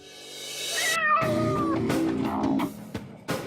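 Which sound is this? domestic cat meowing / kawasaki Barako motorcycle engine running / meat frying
domestic cat meowing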